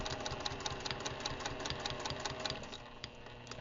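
Sewing machine stitching a quilt piecing seam at a short stitch length, a fast steady mechanical whir with rapid rhythmic needle knocks, close, easing slightly toward the end.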